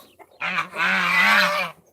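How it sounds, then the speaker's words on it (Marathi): Rajhans geese on a free-range village poultry farm give one loud, drawn-out honk close by, preceded by a couple of short softer calls. "आता हे आहेत राजहंस"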